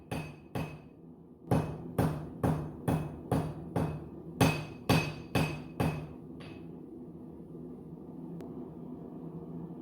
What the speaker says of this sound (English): I'm standing it up on end and forging it a little narrower.